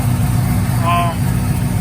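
A 35th-anniversary edition car with a fresh tune idles on its own while its cooling system is bled, giving a steady, close, low rumbling hum that holds even throughout, with a brief faint tonal sound in the middle.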